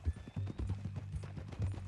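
Horse hooves clip-clop at a steady walking pace in the Red Dead Redemption 2 video game, moderately close and quiet, with a brief snort or voice fragment.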